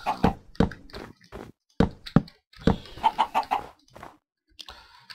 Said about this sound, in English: I'm gonna herd up these chickens.